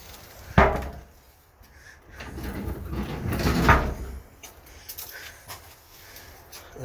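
A wooden generator box door is swung open and shut, giving a sharp knock near the start, a longer creaking, rubbing swing in the middle and a few lighter bumps at the end.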